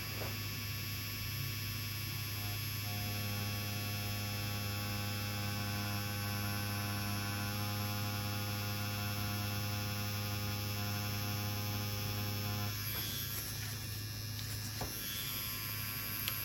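A tattoo machine buzzes steadily while lining, a constant electric hum with a tonal whine that holds unchanged for a long stretch, with a brief rattling shift near the end.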